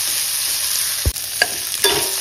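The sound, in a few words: frying chopped papdi vegetable with onion in pan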